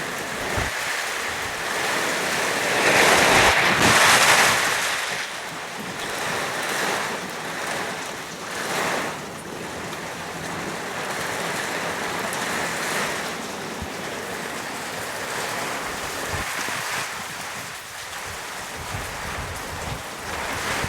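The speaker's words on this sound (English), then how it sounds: "now it's pelting down" Heavy rain pelts down outdoors over a garden shade structure for succulents, a dense continuous hiss with swelling gusts, fairly loud and steady throughout with no talking.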